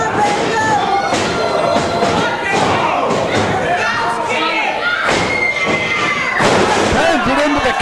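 A wrestling crowd at a live PWU show cheers and roars continuously while an excited commentator talks over it, with occasional thuds from the ring mixed in.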